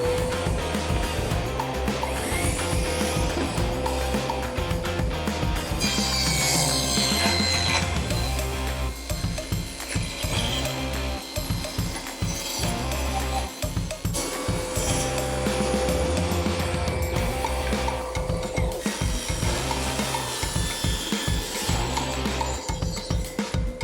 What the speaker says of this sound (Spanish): Ahora vamos a hacer los cortes longitudinales, lo vamos a hacer en la sierra de banco